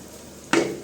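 Capsicum dropped into a hot oiled pan, giving a sudden burst of sizzling about halfway through that stays loud and hissing to the end, with no voices.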